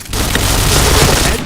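A gunshot landing a headshot in the shooter game Point Blank: one sustained, booming, full-bodied blast that fills about a second and a half at steady loudness before cutting off.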